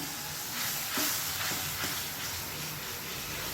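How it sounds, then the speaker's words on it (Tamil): Water heating in a pan for ragi upma gives a steady, soft hiss of boiling, with a few faint clinks or stirs partway through and no voices. "இப்போ இது நல்லா கொதிக்க ஆரம்பிச்சிடுச்சு."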